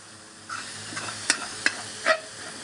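Garlic and chilli stir-frying in a wok for pad kaprao, a soft sizzle under a few sharp metallic scrapes and taps from the spatula, brief and close with no speech.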